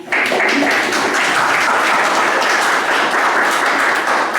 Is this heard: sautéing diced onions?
no